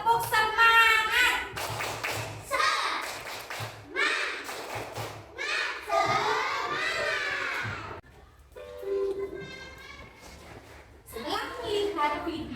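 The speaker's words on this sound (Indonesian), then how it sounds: "mari kita tepuk semangat dulu" A class of children doing rhythmic 'tepuk semangat' spirit clapping, patterned bursts of claps and thumps mixed with chanting voices, with a teacher talking between bursts.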